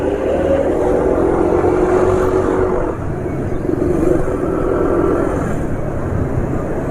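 A Suzuki Nex II scooter engine idles and runs steadily at close range, a continuous low droning rumble with a slight dip partway through.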